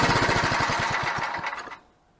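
A 1979 Ariens snowblower's small engine chugs in rapid regular pulses, then sputters and dies out near the end, leaving quiet; close and fairly loud.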